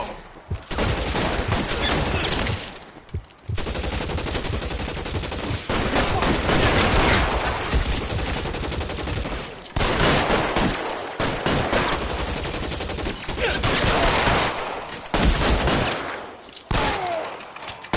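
Shootout gunfire in LA Noire, with bursts of rapid machine-gun and pistol fire that are loud and close, broken by short pauses over about eighteen seconds.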